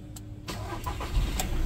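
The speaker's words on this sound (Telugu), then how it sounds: "నేను ఇంజన్ స్టార్ట్ చేస్తున్నాను." A 2019 Volkswagen Vento diesel car engine cranks briefly and catches, then settles into a low, rumbling idle, heard fairly quietly from close by.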